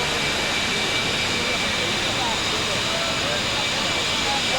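A competition pulling tractor engine roars at a 1996 indoor tractor pulling event in IJsselhallen, Zwolle, Holland, as a steady, loud, unbroken wall of engine noise that fills the whole stretch.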